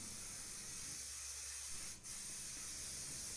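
Upol high build aerosol primer sprays from a can in a steady close hiss, briefly cutting off once for a moment before resuming.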